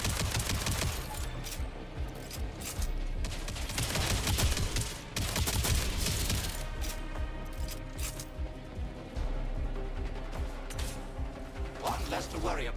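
Rapid gunfire from the video game Jump Space, bursts of sharp mechanical shots layered over dense game sound, loud and continuous with clicking, ratcheting textures throughout.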